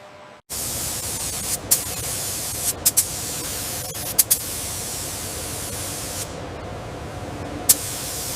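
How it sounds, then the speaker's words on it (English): A spray gun lays coating onto M1 Abrams tank parts in a factory as one loud, unbroken hiss that starts abruptly and holds steady, with a few faint clicks and knocks in the background. "Ensure this section is perfectly smooth. We can't have any overspray on the wheels."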